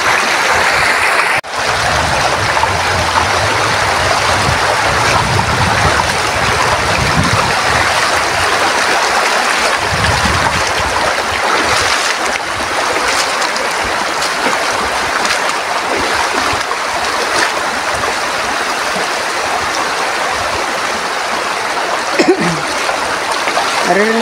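River water rushing and splashing steadily near a hanging bridge in the dry season, a loud, continuous close-up wash of flowing water with no breaks.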